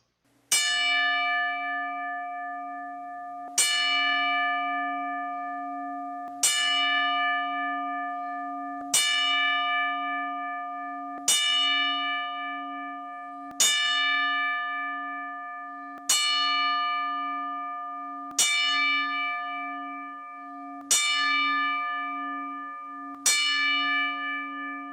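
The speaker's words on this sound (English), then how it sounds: "Let's give him a 10 bell salute and a moment of silence." A single bell tolls ten times at an even, slow pace. Each strike rings out clearly and is left to decay before the next stroke, with no talking.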